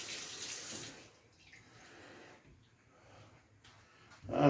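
Cold water runs from a kitchen tap while baking ingredients are measured, a steady hiss of flow that dips midway and surges louder at the end, with no talking.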